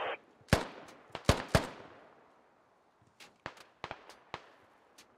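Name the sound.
gunfire exchange in a video game (military shooter)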